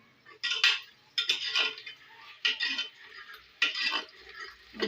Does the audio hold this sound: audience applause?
no